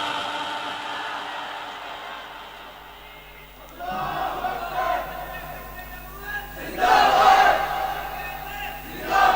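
A crowd at a religious sermon shouts religious slogans in response: two loud, reverberant surges of many voices rise over a quieter hall ambience, with a lull between them.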